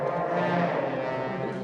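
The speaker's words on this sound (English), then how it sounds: "Let's hear how the trombones sound like." Middle school band trombones sound together in a sustained, full low brass tone at a winter concert, steady and loud throughout with no talking.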